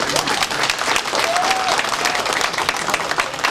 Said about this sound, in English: I am very saddened to see you clap that low